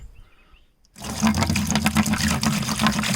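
After a near-silent second, water glugs steadily from a gallon jug into a bucket for a hydroponics setup, a full, close pouring splash that continues to the end.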